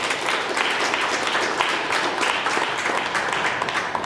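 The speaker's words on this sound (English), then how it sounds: "Give them a round of applause." A reunion crowd at a cliff resort in Coorg gives Bhaskar and Kashi a round of applause, dense steady clapping close and loud throughout without letting up.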